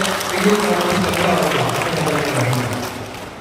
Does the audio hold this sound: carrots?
no